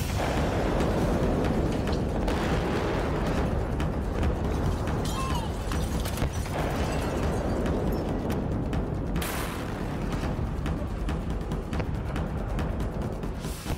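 Continuous heavy rumbling of explosions and blasts, loud and dense throughout, with sharp cracks and booms piling over each other.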